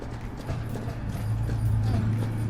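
A horse at the Port of Echuca walks past with steady, close clip-clop hoofbeats over a low rumble of traffic, a few people talking faintly in the background.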